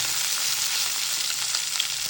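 Surma fish frying in a pan, a steady dense sizzle with small scattered pops, close and even throughout, no voices.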